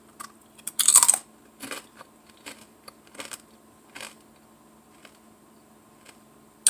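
Crunchy sour cream and cheddar potato chips are chewed close up, giving a loud first bite and then several crisp crunches at intervals against a quiet room, with no talking.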